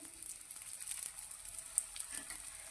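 Moong dal chilla fries in oil in a pan over a low flame, giving off a soft, steady sizzle with faint crackles and no voices.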